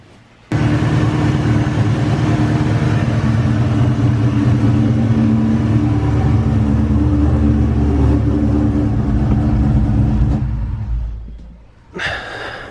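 A Ford Cobra engine fitted with an Eaton supercharger, freshly filled with supercharger oil and a belt refitted, fires up abruptly and idles loud and steady up close before cutting off near the end, followed by a brief burst of noise.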